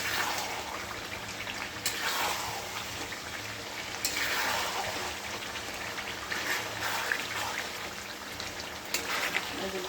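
Mutton sautéing in a pan, giving a continuous hissing sizzle like steady rain that stays close and even across the whole stretch, with occasional faint bumps.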